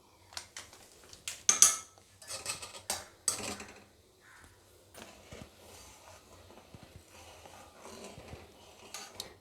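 A spoon scrapes and clinks against a pan while milk with powdered milk is stirred over medium heat, with irregular metallic taps at first, then softer steady scraping.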